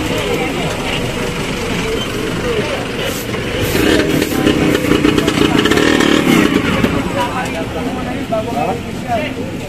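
A motorcycle engine runs at a roadside clearing operation where one of the bikes will not start, a loud continuous rumble that swells briefly midway, under overlapping outdoor talk and clatter.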